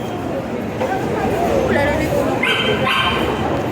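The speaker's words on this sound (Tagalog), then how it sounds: "Uy, may aso." A dog barks and yips several times amid noisy outdoor background and people talking nearby, at Megamall in Mandaluyong.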